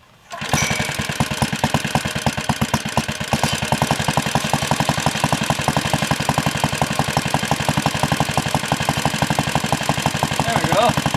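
A Cooper Klipper mower engine runs steadily and loudly after a brief start, its fast even firing pulses repeating throughout without a break.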